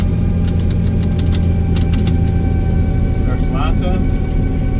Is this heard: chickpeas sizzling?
no